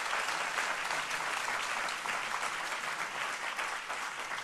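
Audience applause at a talk by Cory Booker, a steady wash of many hands clapping at moderate level that carries on without a break and with no voices over it.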